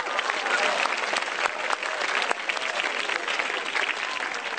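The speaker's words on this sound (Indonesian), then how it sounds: "Tugas Anda mikir, bukan tepuk tangan." Dense, sustained applause from a large audience at a comedy show, loud and continuous throughout without a break.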